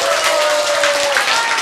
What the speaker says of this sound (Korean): 여러분이 여기에 박수를 좀 크게 쳐야 돼